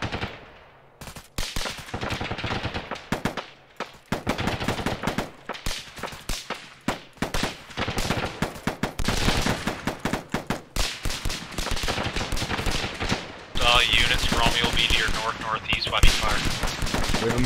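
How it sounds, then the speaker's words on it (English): Heavy gunfire from a mounted vehicle gun in a military combat game, with sustained automatic bursts and scattered rifle shots cracking nearby, loud and dense throughout, broken by short gaps and mixed with radio chatter. "We have some sort of mounted vehicle up the road engaging us."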